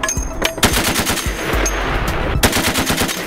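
M2A1 .50 caliber heavy machine gun firing on full automatic, loud rapid bursts of heavy thudding shots at close range with brief gaps between strings, no voices.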